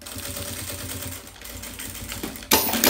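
A sewing machine runs in quick, even rattling pulses as it stitches fabric for a notebook cover, followed by a louder, rougher burst of noise near the end.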